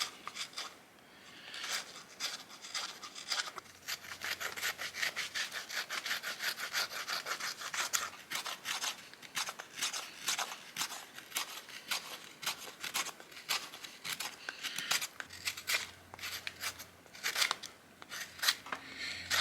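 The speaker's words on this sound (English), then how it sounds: "let's do some carving and shaping with it, see how it actually works" Repeated rasping strokes of an Ostsee knife, an elongated blade with a T handle, carving and shaving chunks from wood. The strokes come close and steady, in an even rhythm with brief pauses, and no one speaks.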